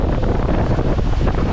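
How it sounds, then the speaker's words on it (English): Strong wind blows across open water on the Chao Phraya River in Bangkok, a steady loud roar buffeting the microphone from start to finish, with no voices. "Not so hot when the wind is blowing on you."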